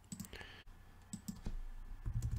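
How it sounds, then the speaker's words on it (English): Quick clicks of typing on a computer keyboard, a handful of light keystrokes in short bursts, close and fairly quiet, with no talking. "I'm just going to type in the word hello."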